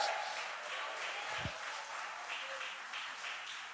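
A church congregation applauds during a sermon: a faint, steady patter of clapping that holds evenly throughout, with no voice over it.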